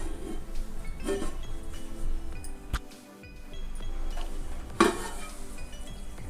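Moong dal dalcha with tamarind broth being stirred in a pot, with soft scraping and a low simmer, scattered metal clinks, and a sharp clank of a lid set on late, all close by.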